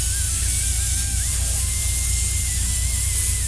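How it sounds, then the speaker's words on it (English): Spray paint hisses steadily through a stencil, a close, continuous airy rush lasting the whole stretch with no pauses and no voices. "Spray it in an area that you know you're going to be covering"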